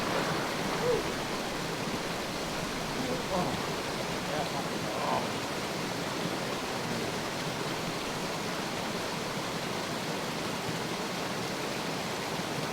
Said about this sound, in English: Nice little waterfall in the background.